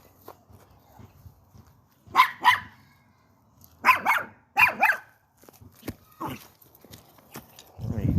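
A dog barks outdoors in a few loud, close bursts, two quick pairs of barks separated by short pauses, then fainter yelps and a rumbling rustle near the end.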